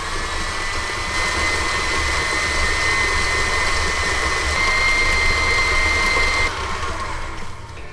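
An electric stand mixer with a paddle runs at full speed creaming softened butter and sugar for donut balls, a loud, steady motor whir with a constant whine that drops off near the end.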